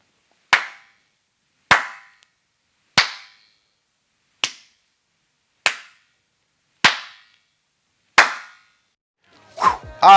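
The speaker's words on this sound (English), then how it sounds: "I'm gonna do a quick clap test, turn around here, and you can hear in between these two walls that there's like this springy type sound." Eight sharp hand claps in a home studio room, evenly spaced about a second apart, each ringing with a short springy flutter echo bouncing between two parallel walls, ending in a brief shuffle.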